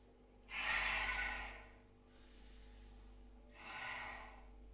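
Two slow breaths, a longer loud exhale followed later by a softer one, close and otherwise quiet apart from a faint steady hum.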